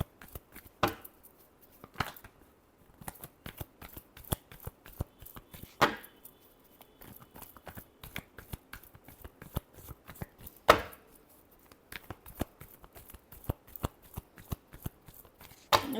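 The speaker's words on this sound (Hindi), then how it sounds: "Last shuffle." Tarot cards are shuffled by hand in a long run of quick, crisp riffles and slaps, close and fairly loud, with a few sharper snaps along the way and no talking.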